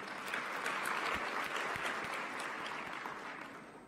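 A summit audience clapping for their host, a dense, steady round of applause filling the room and tapering slightly toward the end.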